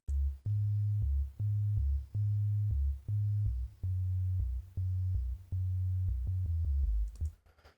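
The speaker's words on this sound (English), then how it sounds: "I've used some really weird backup bass effectively, because the bass options in Musescore aren't that good" A synthesized backup bass line from MuseScore plays a buzzy, sine-like tone in a run of short, evenly pulsed low notes with brief clicks at each attack, stopping abruptly near the end.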